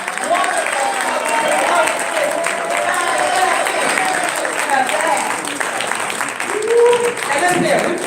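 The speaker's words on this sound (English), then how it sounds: "Good applause." Audience applause at the Rustin/Lorde Breakfast, a sustained roomful of clapping and crowd noise with voices calling out over it.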